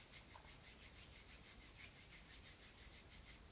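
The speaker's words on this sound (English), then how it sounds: "Rubbing my hands a bit again" Hands rubbing together, a soft, close dry friction repeating in a steady back-and-forth rhythm, quiet and alone with no talking.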